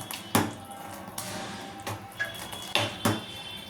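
A spoon stirs Kathiyawadi kadhi in a metal pot, producing several sharp, scattered clinks and scrapes against the pot at an uneven rhythm, close and moderately quiet, with a faint background hiss.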